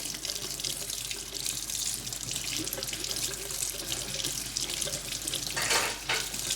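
Water runs steadily from a tap as a briar pipe bowl is rinsed under it, a continuous close splashing hiss that swells briefly near the end.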